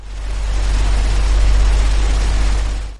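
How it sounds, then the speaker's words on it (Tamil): A metal exhaust fan runs loudly and steadily close up, a continuous low rumbling hum with broad airy whoosh, unbroken for the whole stretch with no voices. "அதே மெட்டல் எக்ஸாஸ்ட் ஃபேனில் பார்த்தீங்கன்னா நாய்ஸ் ஜாஸ்தியாக இருக்கும்."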